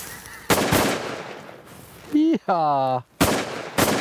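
Shotgun shots at waterfowl during a hunt at the top of the flyway: two loud, sharp near blasts about three seconds apart, with a man's whooping yell and goose calls between them.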